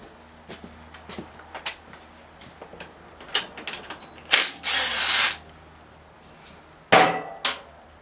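A wrench works on the rear axle nut and brake hub of a 1981 Honda XL125S dirt bike, giving scattered metallic clicks, a short burst of fast ratcheting, and a few louder clanks of tools and parts, close up, with no talking.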